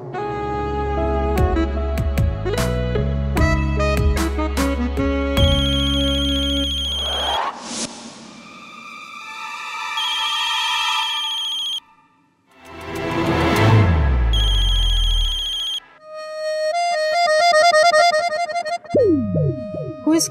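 Phone ringtone ringing loudly and close: a bright electronic melody of stacked synthetic tones, changing pattern several times with short gaps between the phrases, alone without speech.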